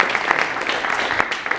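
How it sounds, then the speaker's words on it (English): An audience at a presentation applauds in a dense, steady round of clapping that stays moderately loud through the short stretch. "So another round of applause for that."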